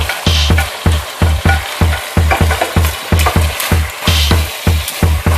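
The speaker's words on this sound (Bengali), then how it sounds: "দিয়ে আবার সুন্দরভাবে চিকেনের সাথে কষিয়ে নিচ্ছি" Chicken in tomato gravy for Amritsari chicken masala is stirred in a frying pan, a spatula scraping in a quick even rhythm of about three strokes a second over a constant close sizzle.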